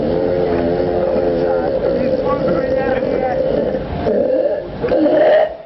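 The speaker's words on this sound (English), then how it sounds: "those burps are about as loud as a rock concert, and slightly less loud than a jackhammer" A very loud, long, record-setting burp rumbles and groans in a sustained, droning voiced tone, swelling louder toward the end.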